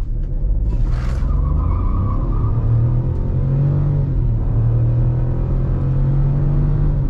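Chevrolet Tracker 1.2 turbo accelerating hard from inside the cabin, a loud steady engine drone rising in pitch with gear changes, plus a brief hiss near the start.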